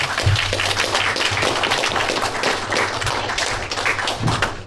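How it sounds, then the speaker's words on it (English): An audience applauds at a city commissioner candidate meet-and-greet forum: dense, steady clapping from many hands, fairly loud and continuous for several seconds with no voices over it. "let's give them all a round of applause"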